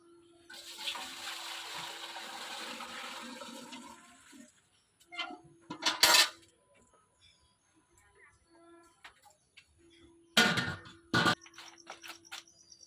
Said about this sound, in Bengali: আর এখন জলটা দিয়ে দেবো